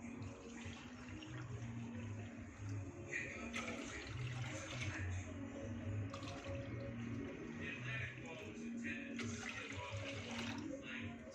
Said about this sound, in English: So for that, I'll add 2 cups of water.